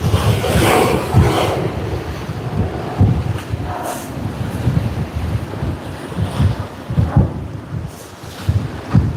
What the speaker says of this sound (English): It's a great takeoff.